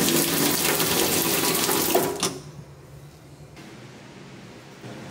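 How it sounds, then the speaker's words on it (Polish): Hot water streams steadily from a pull-out kitchen tap as a loud, broadband rush, then cuts off abruptly, leaving a quieter room hiss with a faint click at the end. "Tu leci od razu gorąco woda. To jest taki kokotek od razu z wrzątkiem."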